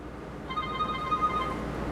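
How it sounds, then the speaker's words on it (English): A phone rings indoors in a converted van with a short electronic ringtone of bright tonal pulses, mid-level over a quiet background hum, with no talking. "The phone is ringing."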